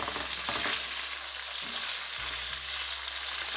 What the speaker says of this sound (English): Now we need to saute the sausages just to give it a little glaze